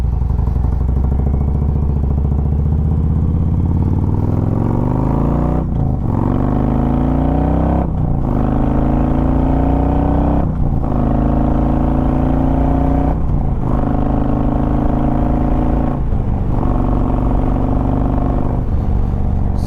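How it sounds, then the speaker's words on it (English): A 2016 Harley-Davidson Road Glide Ultra motorcycle engine revs and accelerates through several gear changes, loud and close, pitch climbing and dropping at each shift with a steady heavy rumble throughout. "Just with a little bit of throttle, and it sets you back, and I'm not used to being set back on this 2016 Road Glide Ultra."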